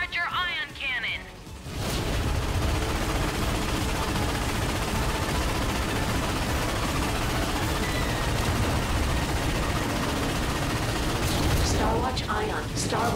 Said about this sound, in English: Shooting down the smaller ships will charge your ion cannon.